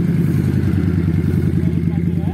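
A rusty custom Harley-Davidson Sportster project motorcycle runs close by, its engine giving a loud, steady low rumble with fast, even pulses.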